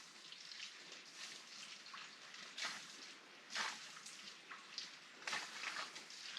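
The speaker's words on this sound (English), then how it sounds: "It's that water coming out of the culvert." Steady broadband rushing and splashing of water pouring out of a culvert on a hiking trail, continuous with a few louder surges, fairly close and with no voices.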